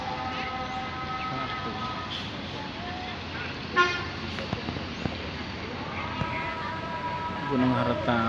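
A bus horn plays a telolet tune, several melodic toots that sound at the start and again near the end over traffic noise. People talk over it.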